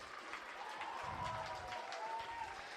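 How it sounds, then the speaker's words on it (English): A home crowd cheering and applauding at a speed climbing final in St. Pölten, heard as a soft, distant wash of clapping and voices that swells slightly midway. "The home crowd is cheering."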